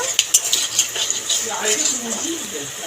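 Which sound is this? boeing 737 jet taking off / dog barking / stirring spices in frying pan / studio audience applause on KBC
stirring spices in frying pan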